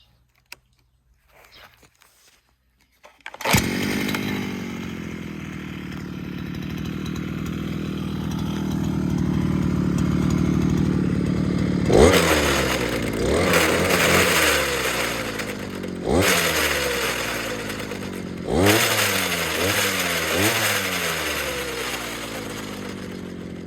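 A small petrol grass trimmer engine with an internal fault starts and runs roughly, its revs surging and dropping repeatedly with an uneven, rattling drone close by.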